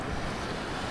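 Steady roar of wind and surf on the coast at Dinahican, Infanta, Quezon, Philippines, as a typhoon approaches, a continuous wash of noise with no distinct wave breaks, brief and moderately loud.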